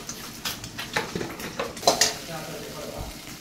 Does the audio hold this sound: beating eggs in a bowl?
yes